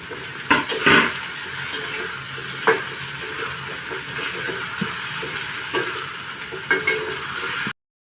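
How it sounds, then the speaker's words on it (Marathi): Masala of green chillies, garlic, chopped tomato and spices frying for chicken curry, stirred in a pan: a steady close sizzle with scraping spoon strokes and a few louder clatters, no voices. "माझा मसाला छान तांबूस रंगावर भाजून झालेला आहे"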